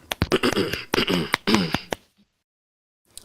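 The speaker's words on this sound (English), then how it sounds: "I gotta clear my throat here." A man clears his throat several times in quick, loud, rasping bursts up close, followed by near silence with a faint sound at the end.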